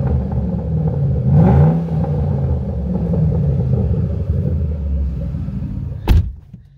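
A 2012 Ford Mustang Shelby Cobra GT500's engine rumbles at a deep, steady idle, swelling in one short rev early on, then settling back before a sharp clunk near the end.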